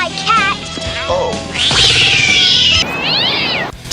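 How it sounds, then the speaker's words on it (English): A cat meows several times in quick succession, loud and close, with a loud clattering crash partway through. "My cat. My cat."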